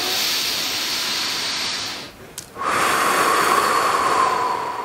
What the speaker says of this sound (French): inspirez par le nez et soufflez par la bouche